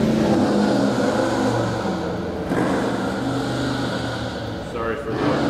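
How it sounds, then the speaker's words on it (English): Road traffic passes outside during a driveway permit discussion at a public meeting, with a car accelerating in a steady, fairly loud rumble that runs beneath ongoing talk for the whole stretch. "Sorry for the road noise."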